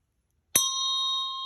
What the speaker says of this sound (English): So now I'm going to ring this Tibetan bell